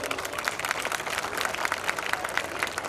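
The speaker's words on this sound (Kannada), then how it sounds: "ಆ ಶಾಲೆಗೆ ಒಂದು ಜೋರಾದ ಚಪ್ಪಾಳೆ ಕೊಡ್ರಿ ಮೊದಲು" An audience at a school stage programme breaks into dense, sustained applause, many hands clapping together at an even loudness throughout.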